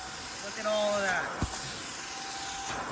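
An upholstery extractor sucks up distilled water and cleaning product from a car interior, giving a steady, loud broadband hiss and whoosh that carries on throughout, with a faint voice audible under it.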